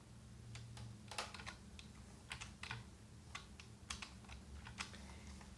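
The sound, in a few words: typing on a computer keyboard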